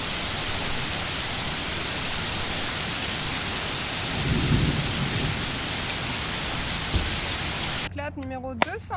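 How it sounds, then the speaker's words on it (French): Steady heavy rain hisses throughout in Iceland, with a low rumble of thunder rolling in midway; a voice speaks briefly at the very end. "Et il s'est mis à pleuvoir."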